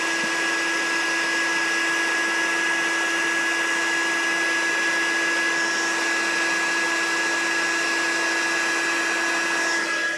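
A heat embossing tool blows hot air for stamped craft embossing, a loud, steady whirring rush with a constant whine that runs unbroken for the whole stretch with no talk.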